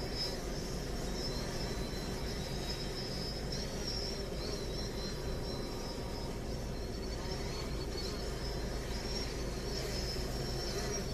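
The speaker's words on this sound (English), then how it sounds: "I hear a drone." A DJI Phantom drone flies overhead outdoors during storm chasing under severe-weather conditions in Iowa, giving a steady high-pitched whine that holds for the whole stretch over constant wind and ambient noise, with no talking.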